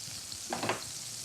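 Oil heating in a pan for frying Wiener Schnitzel, a steady close sizzle with a brief swell of crackling in the middle, no talking.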